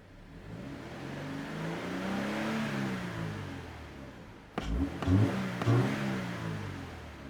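A 2014 Scion FR-S engine running close by, a steady idle hum that rises and falls, then several sharp revs with abrupt throttle blips near the end.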